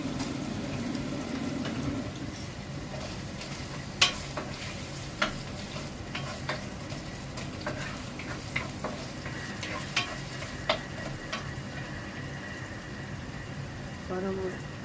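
Onion and garlic frying in a pan on a home stove, a steady sizzle with occasional sharp clicks and stirring knocks from a utensil, close and moderately loud, with some background voice.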